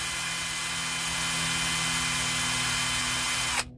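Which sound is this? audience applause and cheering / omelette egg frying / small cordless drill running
small cordless drill running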